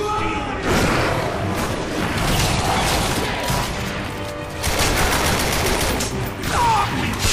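Dense, sustained automatic gunfire from a machine gun in the shooter video game The Darkness 2, loud and continuous across the whole stretch with booming impacts mixed in.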